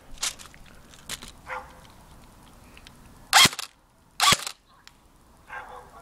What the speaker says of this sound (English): we're gonna be shooting a kid with my ICS CXP